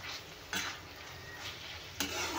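A spatula turns spiced eggplant masala in a pan, making a few soft scraping strokes over a low, continuous sizzle. The sound is quiet and close, with no voices.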